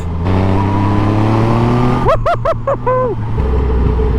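A supercharged Triumph Rocket 3 motorcycle, roughly 340 horsepower, on a road in cold conditions: a steady loud engine drone, then a quick series of sharp rising-and-falling revs around the middle before settling to a lower hum.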